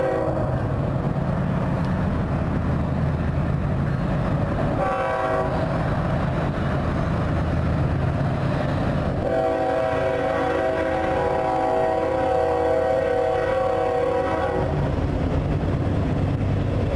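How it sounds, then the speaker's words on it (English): A long train rolls into the Santa Fe station in Kingman, Arizona, its loud rumble continuous, with sustained horn blasts sounding partway through, close by and without talk. "The train coming right in right now."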